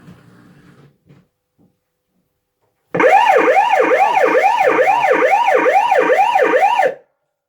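A JPM Impact fruit machine sound card plays a loud, rapidly warbling siren-like electronic effect for about four seconds, starting abruptly after brief faint machine noise and cutting off cleanly.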